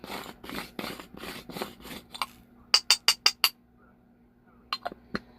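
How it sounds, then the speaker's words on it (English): Herb grinder being twisted, a series of rough scraping grinds followed by a quick run of sharp metallic clicks and a few scattered clinks, close and fairly quiet, no talking. "That noise you hear in the background is me. Using a grinder."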